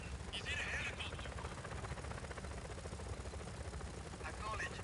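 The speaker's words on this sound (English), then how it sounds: "command, he's in a helicopter" A helicopter in the Just Cause 4 video game drones with a continuous rotor chop and engine whine under game dialogue, with chirping electronic effects near the start and end.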